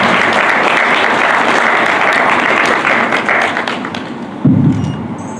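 At a Kinshasa seminar on immigrating to Canada, an audience applauds loudly and steadily, the clapping thinning slightly before a dull thump near the end.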